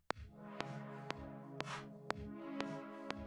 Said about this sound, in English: It's the nonlinear reverb.